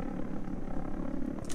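A helicopter flying low overhead, a steady muffled rotor and engine drone at moderate level that holds without change throughout.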